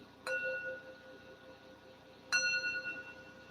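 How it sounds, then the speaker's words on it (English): Two bright metallic chime strikes about two seconds apart, each ringing with clear sustained tones that slowly fade over a quiet background. "Listen to chimes."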